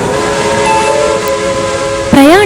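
A train horn or whistle sounds at close range near the end of the clip as a train arrives at a platform, with steady tonal rail noise leading up to a sudden loud blast.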